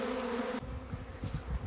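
Swarming honey bees gathering in a clump of bushes make a dense, steady buzzing drone, close and loud, with no voices.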